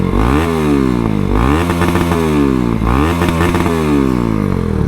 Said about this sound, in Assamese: ইঞ্জিনটো স্মুথ আছে একবাৰ সাউন্ডটো শুনাই দিছো আপোনালোকক